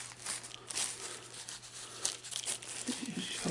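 A piece of card being folded and pressed into place, producing close, quiet crinkling and scraping rustles that continue steadily with small crisp snaps.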